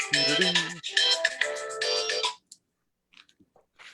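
A phone plays a bright melodic ringtone for about two seconds, loud and close, then cuts off into near silence with a few faint clicks and rustles.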